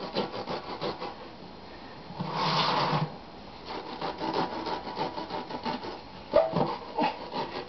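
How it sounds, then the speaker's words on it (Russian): A knife slicing through the rubber of a car tire, with steady scraping, rubbing strokes up close and a louder, denser cut midway through, then a sharp snap near the end. "Резина тогда хорошо режется, когда есть"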